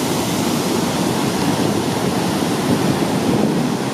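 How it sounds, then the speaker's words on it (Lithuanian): Sioux Falls waterfall on a river roars as one steady, dense rush of falling water, close and loud throughout with no voices. "Čia krioklys"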